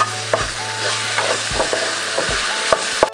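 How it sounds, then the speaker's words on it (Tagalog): Beef with broccoli and shiitake mushrooms being stirred in a pan, with repeated scraping strokes and clinks of the utensil over a low frying sizzle, close and fairly loud. "Haluin lang po natin ng haluin."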